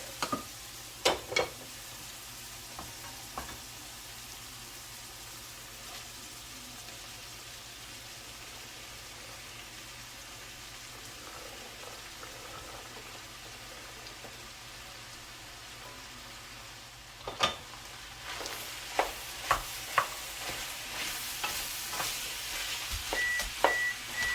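Vegetables tipped into melted butter alongside sausage for a Thanksgiving crockpot dressing, a quiet pan hiss at first, then a louder sizzle with clatter and stirring from about seventeen seconds on.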